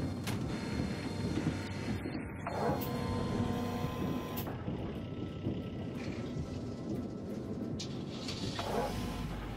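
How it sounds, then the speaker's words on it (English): A heavy mining vehicle's engine drones on in the Gold Rush gold mining simulator video game, a continuous mechanical hum with wavering tone and a few faint clanks, steady throughout. "Engine sounds getting weird again."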